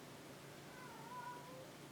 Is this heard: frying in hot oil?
no